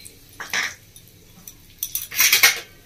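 A utensil scrapes and clinks against a pan as whole spices, kasuri methi, cloves, cinnamon and cardamom, are stirred in ghee. There are two short clusters of metallic clatter with quiet gaps between them.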